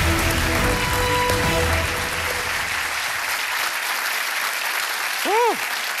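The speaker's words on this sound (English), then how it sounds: "Round of applause, please." A quiz show audience claps warmly in a continuous, fairly loud burst that holds steady, with a brief rising-and-falling vocal whoop near the end.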